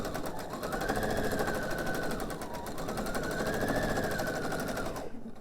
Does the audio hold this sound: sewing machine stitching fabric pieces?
yes